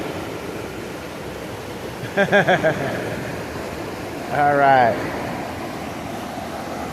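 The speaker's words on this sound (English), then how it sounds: "This little waterfall. A bedrock waterfall just dropped." A small bedrock waterfall in a canyon gives off a steady, close rushing roar of falling water that fills the whole stretch, with a person briefly speaking and a short vocal sound partway through.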